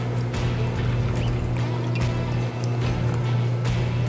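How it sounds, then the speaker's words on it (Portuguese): Vodka, 40 ml, pours into a Blue Lagoon cocktail in a steady, continuous liquid stream with a low hum underneath, close and even, without talk. "A gente também vai adicionar vodka, 40 ml, a mesma coisinha do outro."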